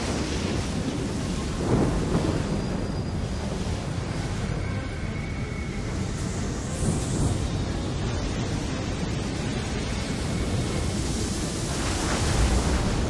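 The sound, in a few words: thunderstorm at sea in Assassin's Creed 3 video game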